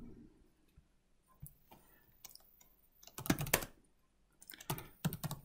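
Someone types the .NET restore command on a computer keyboard: sparse single key clicks, then two dense, close bursts of rapid typing, with quiet gaps between.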